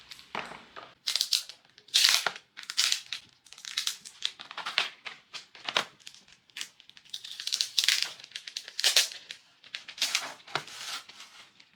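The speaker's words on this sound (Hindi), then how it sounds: "इस पॉलीथीन को हटाते हैं आराम से।" Polythene plastic wrap is peeled and crinkled off a Wacom One pen tablet in repeated close, loud rustling bursts with brief pauses between pulls.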